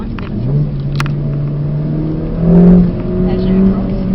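A Mercedes-AMG car drifts on a track, its engine holding a steady drone then rising in pitch as throttle is fed, heard from inside the car while an instructor talks over it.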